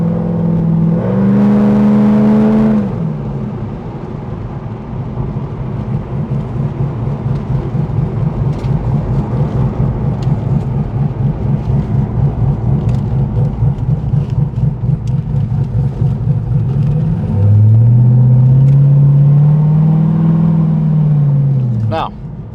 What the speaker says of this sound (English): Got to hear the sweet sound of that head and cam with those long tube headers.